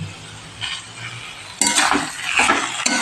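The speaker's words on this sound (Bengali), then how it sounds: "এবার ধনেপাতাটা আমি পেঁপের সাথে ভালো করে একটু মিক্স করে নিচ্ছি" Coriander leaves get stirred into a papaya ghonto curry in a pan, with a spoon scraping and clinking against the metal, growing louder and busier partway through.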